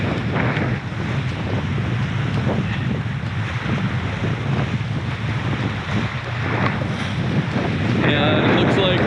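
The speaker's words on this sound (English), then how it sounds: "it's definitely kind of windy out here still" Strong wind roars and buffets the microphone continuously during Hurricane Ian in Florida, with a wash of water and surf underneath, loud and close throughout.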